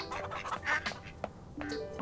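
Ducks being fed on a farm in the video game Farm Together give a run of short quacks in uneven bursts, fairly close and moderately loud over a steady game backdrop.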